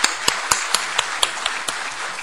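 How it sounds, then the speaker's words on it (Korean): A church congregation claps in welcome, heard as a series of sharp, evenly spaced claps about four per second, fairly close and moderately loud, with a faint bright ringing tone underneath. "우리 박수로 환영해 드립시다."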